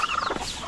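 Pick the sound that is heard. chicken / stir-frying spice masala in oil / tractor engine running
chicken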